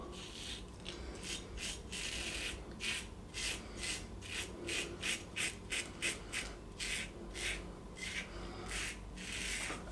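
A razor scrapes across stubble in quick close strokes during a shave with Portuguese products, soft rasping bursts in irregular rhythm with brief pauses and no speech.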